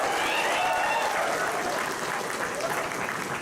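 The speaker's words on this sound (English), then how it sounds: "pat yourself with a big round of applause." A graduation day crowd in a mechanical engineering hall breaks into a big round of applause, a continuous dense wash of clapping heard close and loud throughout.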